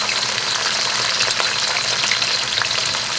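Shallots, roasted over an open flame and sliced, hit garlic frying golden in hot oil for Thai nam prik pad, giving a loud, steady, dense sizzle with faint stirring, close up and without talk.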